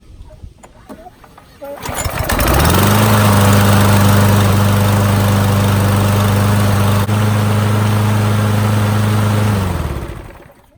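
A brand-new Toro Super Recycler lawn mower engine pulls to life on the first pull after a brief rattle, then settles into a loud, steady running drone that holds for several seconds before cutting off.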